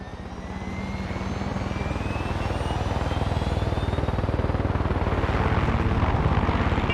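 A helicopter in the Far Cry 6 video game lifts off, its rotor thudding rapidly and its engine whine building steadily louder and nearer throughout.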